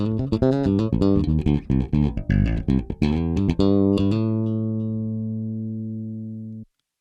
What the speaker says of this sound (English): This is the sound of the bass directly to the sound card.